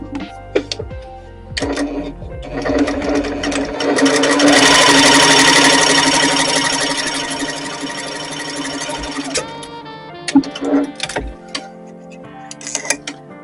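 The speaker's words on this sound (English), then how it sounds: "We're going to be sewing these 2 pieces together from this seam point all the way down" A sewing machine stitches two fabric pieces together along a seam for a braided twist project, a steady loud whirring run in the middle with brief starts and stops and light handling clicks before and after.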